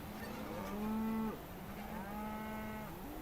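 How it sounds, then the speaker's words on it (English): Cattle mooing in Euro Truck Simulator 2 near farmland: a long low moo swells and fades, then a second drawn-out moo follows, loud and alone over a steady engine-like rumble. "Oh, that was a cow, I think."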